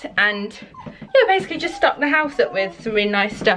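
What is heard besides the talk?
dog whimpering to get into the kitchen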